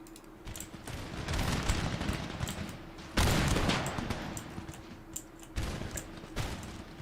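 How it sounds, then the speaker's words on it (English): Heavy booming blasts of cannon fire in an Empire: Total War (Darthmod) battle repeat through a chaotic battle din, with dense rumbling and crackling volleys that swell loudly several times. "Just shoot them cannons over and over again"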